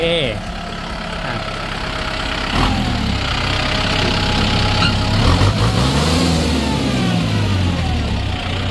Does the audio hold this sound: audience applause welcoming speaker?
no